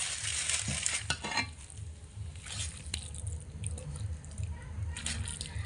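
Flour-made chowmein noodles stir-fried with sauce in a pan over low heat give a steady, close sizzle with scraping stirring strokes throughout, with no talk.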